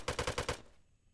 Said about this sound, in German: Schießen alle auf mich, oder wie?